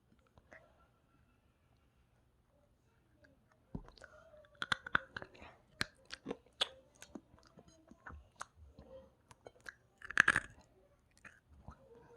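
Crunchy chewing and biting of a small convenience store snack, close and quiet, with irregular crisp crunches starting after a few seconds of near silence and a louder bite near the end.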